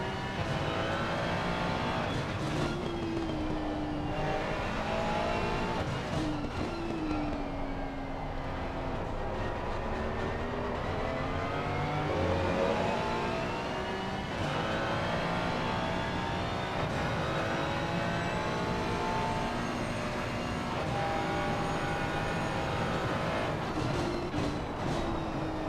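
Onboard engine of a Ferrari race car lapping Zandvoort in a racing video game, a steady, loud whine that rises and falls through the gears for the whole stretch, with no voices over it.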